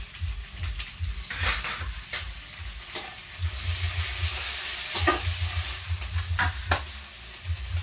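Onions and tomato fry and sizzle in a pan, with steady crackling under repeated scraping strokes and occasional clinks of a utensil against the metal, close and moderately loud with no talking.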